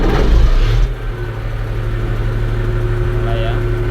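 A Komatsu D375A bulldozer's diesel engine starts with a loud heavy burst, then settles into a steady low idle rumble that continues evenly to the end.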